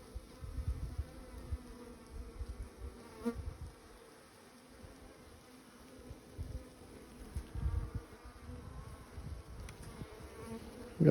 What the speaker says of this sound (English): We are just slap covered in bees.